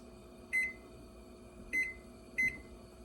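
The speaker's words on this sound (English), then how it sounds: "I'm gonna set a timer on my stove top, and I'm gonna set the timer for 9 minutes." A stovetop timer gives three short, high electronic beeps as its buttons are pressed while setting it in a home kitchen. The beeps are spaced about a second apart, clear and close, over a quiet room hum.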